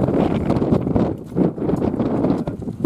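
Horse hooves clip-clopping at Punchestown Racecourse as a racehorse comes in, a loud, dense run of irregular thuds over steady background noise.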